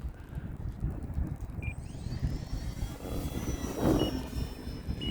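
An E-flite Valiant 1.3 m RC airplane taking off and flying, a faint electric motor whine rising in pitch and fading as it climbs away, over outdoor wind noise.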